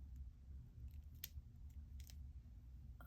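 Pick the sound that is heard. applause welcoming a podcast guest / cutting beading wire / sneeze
cutting beading wire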